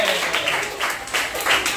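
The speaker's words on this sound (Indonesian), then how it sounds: "tepuk tangan untuk" A short burst of applause from a group in a classroom, steady and fairly close, with no voices over it.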